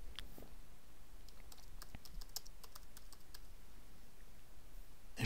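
Steady typing of text on a computer keyboard, a continuous run of light, close key clicks lasting several seconds over a faint room hiss, with no talking.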